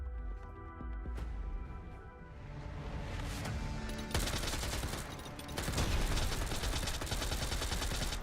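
Rapid bursts of gunfire from a standard-issue gun in the Girls' Frontline 2: Exilium video game, steady volleys running throughout with dense cracking shots over game music, growing heavier in the second half.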